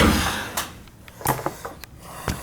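An access door on a Honeywell zone damper being worked shut, giving a few sharp wooden-sounding knocks and clicks with quieter handling noise between them, close by.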